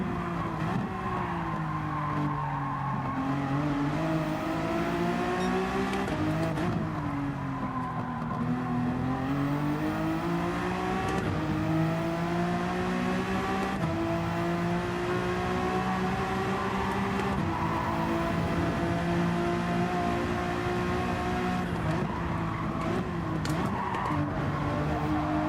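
A racing car in Gran Turismo 7 corners at speed, its engine droning and rising and falling in pitch through gear changes while tires squeal, steady and continuous throughout.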